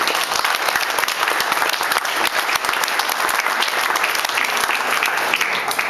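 Audience applause at a carnival federation event in Aalst, a steady dense wash of many hands clapping throughout, loud and sustained with no break.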